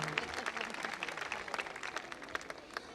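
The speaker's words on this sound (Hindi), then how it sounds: "तालियां दे दीजिए, जान आ जाएगी हमें।" An audience at a Hindi poetry gathering claps in a fairly quiet, distant burst, steady scattered hand claps lasting a few seconds.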